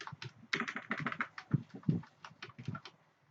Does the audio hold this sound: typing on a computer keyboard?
yes